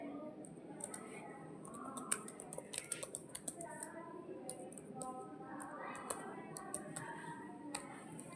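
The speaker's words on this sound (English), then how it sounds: "So now let's type here." Soft, quick keystrokes patter on a computer keyboard in a quiet room, a steady scattering of faint clicks with occasional sharper taps, while a voice murmurs underneath.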